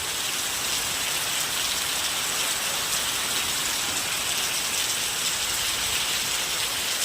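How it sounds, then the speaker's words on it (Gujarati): A steady, dense hiss of heavy rain beats down on surfaces, constant and unbroken with no voices. "કેટલો વરસાદ આવી રહ્યો છે જો."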